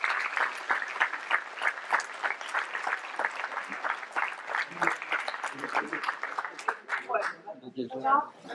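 An audience at a mayor's New Year ceremony in Les Forges de Lanouée claps in a steady, dense round of applause that thins out near the end, with voices coming through as it fades.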